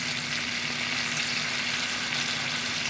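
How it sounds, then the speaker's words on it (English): Onions and garlic sautéing in a pan with steady stirring, giving a continuous, even sizzle at moderate level with no talking and no distinct individual scrapes. "I'll do is to keep on stirring all our ingredients, onions"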